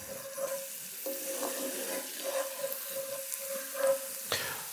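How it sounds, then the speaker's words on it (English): Cognac reducing in a pan on low heat gives a faint steady sizzle, with occasional soft scrapes and taps of stirring close by. "We're just gonna cook this, stirring frequently until most of the cognac is almost evaporated away"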